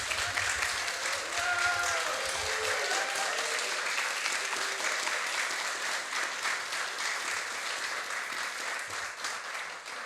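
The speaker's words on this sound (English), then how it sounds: "Give them another round of applause, please." Sustained audience applause for poets at a new-writing award announcement, a dense steady wash of many hands clapping for about ten seconds, with faint voices mixed in early on.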